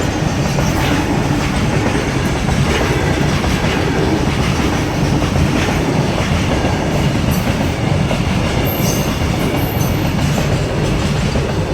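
A train thunders through a railway crossing up close, with continuous loud rumble and rhythmic clickety-clack of wheels over the rails.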